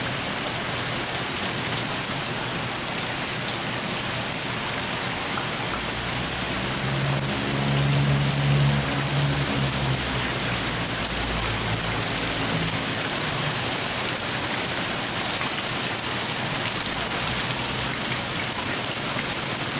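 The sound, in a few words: hail and rain falling during a hailstorm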